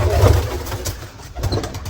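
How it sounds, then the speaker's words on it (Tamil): Pigeons kept in a cage coo and rustle close by, a low soft cooing running through most of the moment with scattered wing and movement noises, no talking. "ஈகிள் டைப்பில் இருக்குது இந்த புறா"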